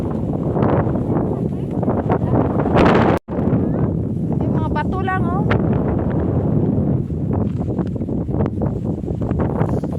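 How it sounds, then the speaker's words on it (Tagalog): Strong wind rumbles across the microphone in the open air on Tai Mo Shan mountain peak in Hong Kong while several people talk and exclaim nearby. "Mahangin!"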